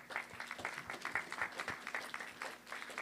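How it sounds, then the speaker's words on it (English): A modest audience at a city council candidates' climate forum claps in scattered, distinct bursts, sounding fairly quiet and somewhat distant in the room. "another round of applause for our candidates."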